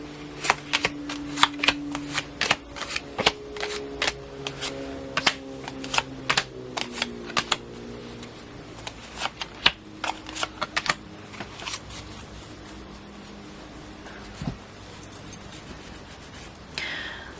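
Stiff tarot cards are riffled and snapped in quick crackling bursts, with a pause and a few scattered taps near the end, close and fairly loud.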